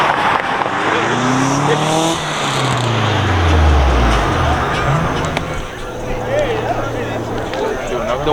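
Turbocharged street cars race down a road between U-turns, engines roaring and tires squealing as they rise, pass near and fade, with people talking over the sustained loud engine noise.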